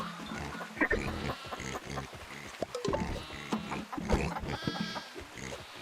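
Sheep in a video game bleat repeatedly alongside pig-like grunts, overlapping animal calls in quick succession under busy game sounds and a little talk.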